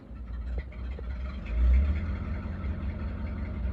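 A car engine runs at a low, steady idle with a brief rise in rumble midway, fairly quiet and heard on its own.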